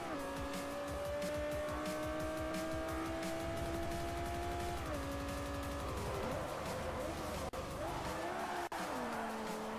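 A Lexus LFA sliding in Forza Motorsport 4 gives a sustained engine whine that holds pitch, then dips, with tire squeal and skidding noise building under it, loud and close.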